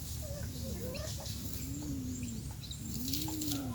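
Pigeons at a loft in Negros Occidental give soft, wavering cooing calls that rise and fall over a constant bed of low rumbling and chattering birdsong nearby.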